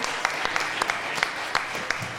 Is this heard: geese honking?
no